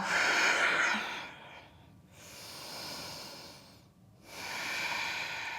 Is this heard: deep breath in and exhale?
yes